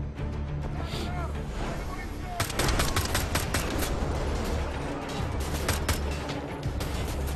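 Dense gunfire in the World War II shooter Wolfenstein: The Old Blood, a steady clatter of shots that bursts louder midway, with people talking over the action.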